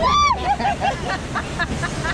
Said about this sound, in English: Here comes the waterfall!